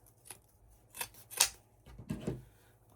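A few quiet scissor snips through ribbon for a pancake wreath, spaced irregularly and close, with a brief rustle between cuts and no speech.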